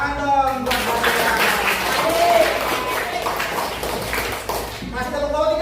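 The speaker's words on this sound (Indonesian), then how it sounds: "tepuk tangan dong buat saya" Audience applause in a classroom lesson on human digestive system diseases, a sustained patter of many hands clapping with crowd noise and a voice speaking briefly over it.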